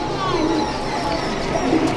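Rampuri pigeons at a loft in Durgapur coo softly and continuously at close range as a pair is let go, amid a dense bed of low, murmuring bird sound.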